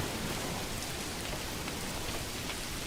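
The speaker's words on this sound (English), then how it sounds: "They're working in the rain." Steady rain in the medieval village-building game Manor Lords, a dense, even hiss of falling drops with no breaks and no voices.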